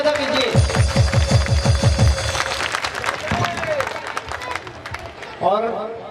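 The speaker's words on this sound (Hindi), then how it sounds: "आप जोर से ताली बजाइए" Audience applause at a Mata ki Chowki devotional event, a burst of rhythmic clapping from a crowd that fades after a couple of seconds, with a voice speaking over it and more talk afterwards.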